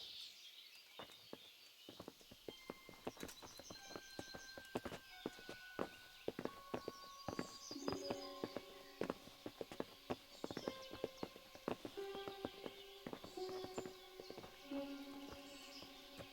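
Horse hooves clip-clop softly and unevenly at a walking pace in the video game Kingdom Come, mixed with light tonal sounds and occasional faint bird calls.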